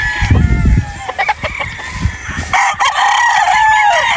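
Roosters crow loudly and repeatedly, overlapping one another, with hens clucking close by in the background.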